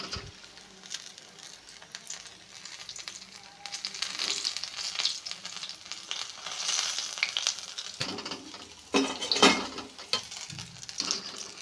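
Mirchi bajji, chilli fritters, crackle and sizzle in hot oil with a steady bubbling hiss, and louder spattering pops surge near the end as another batch goes in.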